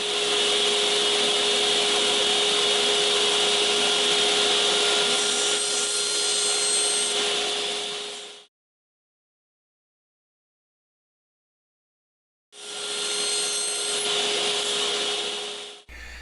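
A power saw cuts wooden pieces to length against a stop for a clock build, with two long, steady, loud whining cuts close by, split by a few seconds of silence.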